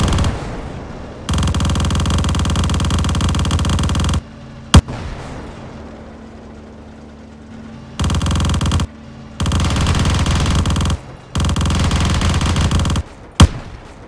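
Shilka anti-aircraft guns in Minecraft's Flans Mod unleash loud, rapid continuous bursts of game gunfire, several long volleys separated by short pauses, with two sharp single bangs between them.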